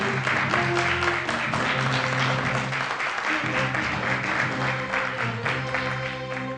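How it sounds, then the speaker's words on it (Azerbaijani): A television quiz audience applauds the winner with sustained, steady clapping that runs the full length of the clip, laid over background music. "dostlarınız, həmkarlarınız sizi alqışlayırlar"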